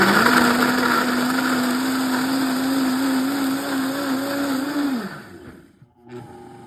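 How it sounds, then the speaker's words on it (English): A blender grinds warm coconut into a paste, a loud steady motor whir with a sustained pitched whine that holds for about five seconds, then winds down and stops. "after the warm coconut has been ground down into a paste, I just scraped it out of my blender"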